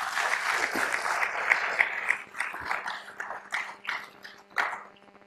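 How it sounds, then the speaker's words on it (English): Audience applause for event sponsors fills the room, a dense patter of clapping that thins into scattered individual claps toward the end, with a few brief voices mixed in. "Let's give our sponsors a big round of applause"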